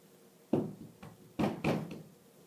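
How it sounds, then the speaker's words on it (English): Door being handled, several sharp knocking or banging thuds in an irregular burst, close and fairly loud with no voices. "Oh, that was a door."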